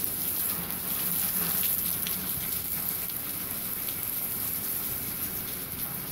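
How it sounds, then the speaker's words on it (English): Steady, dense hiss of rain falling continuously, an even wash of pattering with no breaks. "He's watching the rain."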